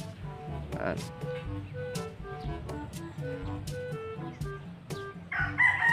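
A Melsim Black battle stag rooster crows nearby, a loud drawn-out call with some clucking around it, while someone talks over it.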